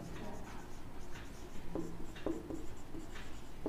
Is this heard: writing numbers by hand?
yes